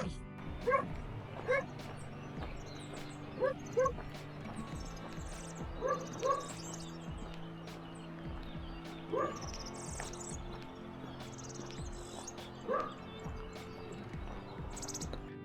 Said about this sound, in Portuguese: Calma, cachorros.